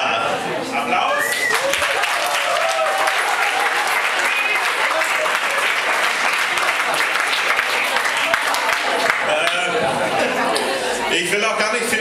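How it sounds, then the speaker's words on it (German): Loud, sustained applause from an audience at an acoustic slam music night, dense clapping with some cheering and chatter running the full length without pause. "Applaus!"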